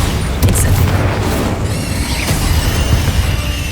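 Bombarda spell explosion in the Hogwarts Legacy video game, a loud booming blast with crackling debris and a rolling, rumbling tail, dense and close.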